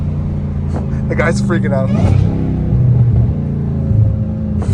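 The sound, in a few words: Dodge Hellcat Redeye revving and downshifting with supercharger whine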